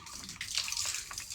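Water splashes and gurgles as it is poured into wheat-bran feed for Qurbani goats on a farm in Faridpur, a short continuous close-up pour.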